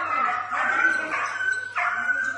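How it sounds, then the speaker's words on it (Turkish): Dogs yelp, whimper and cry out in pain while being beaten with a stick in a street among shops, with sharp repeated yelps and whines filling the scene loudly and continuously. "Hayvan acı içinde bağırıp kaçarak canını kurtarırken"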